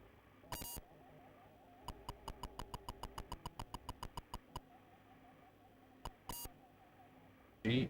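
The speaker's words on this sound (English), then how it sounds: "Like maybe it just sounds like beeping instead of screeching." Beeping from electronic hardware under test: a rapid run of about fifteen short, evenly spaced beeps, with a few isolated beeps and bursts before and after, over quiet background noise.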